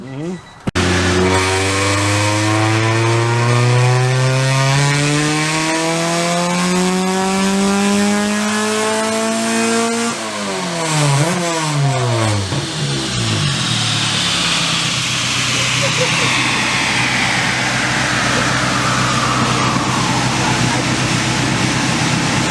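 Turbocharged Honda Prelude engine running on a dyno, loud and close, revving up steadily through the gears for about ten seconds, then lifting off with choppy throttle blips and settling into a sustained roar until the end.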